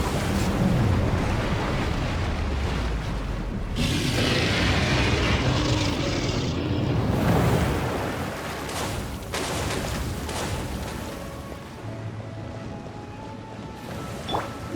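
Cannon fire and explosions in Genshin Impact roar as a dense, continuous rumbling wash of blasts, loud and near, easing somewhat toward the end.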